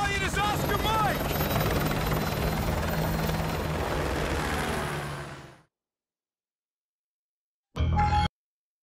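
A military helicopter in the Call of Duty: Modern Warfare 2 campaign gives off a loud, steady rotor and engine roar for about five seconds, then fades out; after a silence a short burst of it returns.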